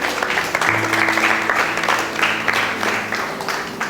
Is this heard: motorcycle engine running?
no